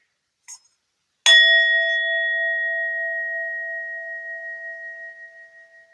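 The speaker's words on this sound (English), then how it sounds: "so I'll just ding the bell" A small bell is dinged once before a tarot card reading, a single clear strike that rings on with a long, slowly fading tone, heard alone in a quiet room after a faint soft tap.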